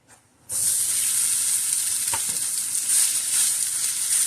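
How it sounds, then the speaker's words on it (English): Hong Kong style par-cooked noodles hit a hot oiled pan and start frying, a sudden loud, steady sizzle that continues alone, with a faint clink partway through. "I'm going to throw them in the pan, and we're going to cook them for 1 to 2 minutes on each side until they're crispy"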